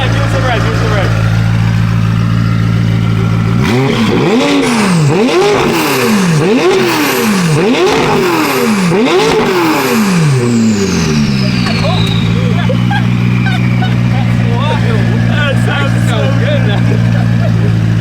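A McLaren 570S with a straight-piped Valvetronic exhaust revs hard, a loud, close run of rising and falling blips that climb in pitch, then settles into a deep, steady idle, with people talking nearby.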